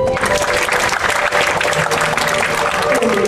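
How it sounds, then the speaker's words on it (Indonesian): Audience applause fills a motivational talk at Menara 165: a dense, loud, steady wash of many hands clapping together, sustained without pause from start to finish. "Tepuk tangan dulu dong."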